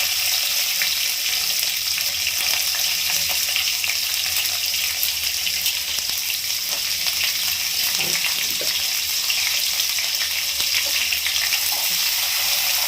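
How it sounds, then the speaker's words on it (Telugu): Chopped onions sizzle steadily in a hot pan of oil for an amaranth-leaf dish, a continuous close frying hiss with faint stirring clinks and no talking. "కొద్దిగా వేగిన తర్వాత మనం ఎర్రగడ్డలు వేయాలండి"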